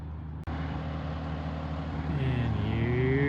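A 1965 BSA motorcycle returning under its own power, a steady engine drone that swells and rises in pitch as it draws nearer over a few seconds.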